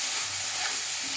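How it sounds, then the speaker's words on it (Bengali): Tomato frying in a pan for a cauliflower and egg curry gives a short, soft, steady sizzle with faint stirring, close and fairly quiet. "টমেটোটা যতক্ষণ না সিদ্ধ হচ্ছে এইভাবেই নাড়াচাড়া করে একটু ভেজে নিতে হবে"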